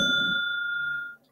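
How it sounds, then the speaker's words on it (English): A game show bell gives a single bright ding that rings on as a clear, steady tone for about a second before fading, heard alone with no talk. "That's their bell."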